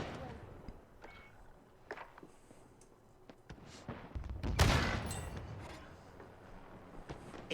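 Distant gunfire crackles in the Warzone shooter game: scattered sharp shots, then a louder, closer burst that swells and fades, over quiet background noise.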